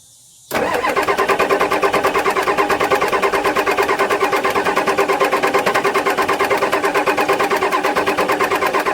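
An old diesel engine, abandoned for more than twenty years, fires up after a moment of silence and settles into a loud, steady, rhythmic clatter that stays close and unbroken to the end.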